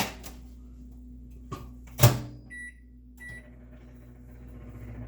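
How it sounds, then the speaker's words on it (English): Kitchen microwave hums steadily while cooking an omelet, a low constant drone with a couple of clunks and a sharp knock partway through, a faint beep-like tone near the end. "this is going to go into my microwave for 2 minutes"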